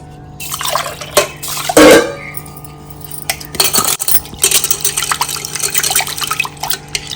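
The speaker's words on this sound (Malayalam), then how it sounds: "ഇത് ഞാൻ മറ്റേ പരിപ്പൊക്കെ ചെയ്യണ പോലെ ഒന്ന് തിളപ്പിച്ച് വെള്ളം കളയുന്നു കേട്ടോ" Boiled split green gram is drained of its cooking water in a home kitchen: uneven splashing and dripping, a loud pour near the start, then scattered pot and utensil clinks, close and without talk.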